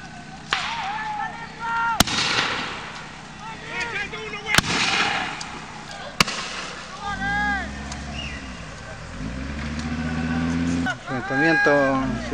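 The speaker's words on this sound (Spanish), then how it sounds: "mientras los disparos continúan sin cesar" Gunshots and tear gas canisters fired during a violent clash between community members and police in Temucuicui: several sharp, loud bangs spaced a couple of seconds apart, with a reporter talking and engines rumbling nearby.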